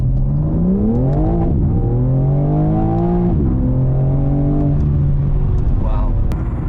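A BMW M4 Competition's engine revs at launch control, its tone climbing and holding in several steady, loud rising steps, close and continuous with the car stationary.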